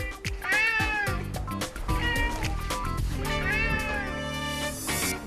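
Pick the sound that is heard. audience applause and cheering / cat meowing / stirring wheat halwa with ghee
cat meowing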